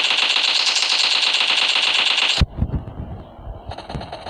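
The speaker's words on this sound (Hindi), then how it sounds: "2 गोली वाली शॉटगन है जी" Rapid-fire shotgun blasts in the online shooter PUBG Lite ring out as a dense, loud, continuous burst for over two seconds, then a sharp cutoff gives way to a few scattered thuds and a lingering high tone.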